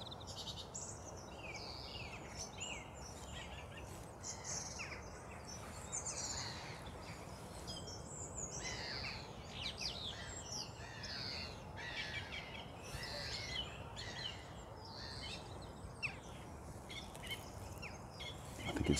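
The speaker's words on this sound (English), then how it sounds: "Song thrush, sing its heart out." A song thrush sings varied, repeated phrases of clear whistles and chirps at a distance, over a faint background hiss.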